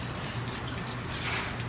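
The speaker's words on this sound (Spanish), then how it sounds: "Primero se debe utilizar agua para quitarle todos los residuos que tengan de tierra" Tap water runs steadily over carrots being rinsed in a sink, a dense continuous splashing hiss with small shifts in flow and no voices.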